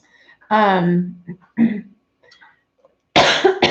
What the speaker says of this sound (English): I have this weird cough thing.